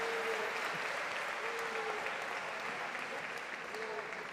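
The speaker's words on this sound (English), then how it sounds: "So give him a round of applause." Audience at a live Shia poetry competition grand final in London applauds steadily, a dense wash of clapping that fills the whole stretch at moderate level.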